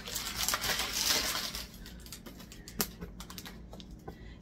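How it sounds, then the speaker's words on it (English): Protective plastic film being peeled off a newly bought household item, giving close crinkling and crackling, loudest in the first two seconds, then thinner scattered ticks and snaps. "So basically, you just peel the film off."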